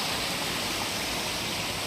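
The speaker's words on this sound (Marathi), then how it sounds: "पाणी पण किती जोराजोराने वाहत आहे बघा" Rainwater running off the hills rushes hard along a village stream during rain, a loud, steady broadband roar that stays unbroken throughout.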